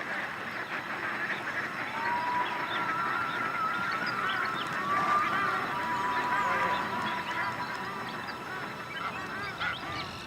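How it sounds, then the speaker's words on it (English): Flocks of geese and other waterfowl honking during an Alaskan summer, dense overlapping calls from many birds at once, continuous and fairly loud with a few clearer honks rising above the chorus. "But it also attracts billions of birds."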